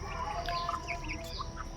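Chickens cluck and chatter steadily at close range over freshly set-out feed, several birds calling over one another amid a busy background of farmyard noise.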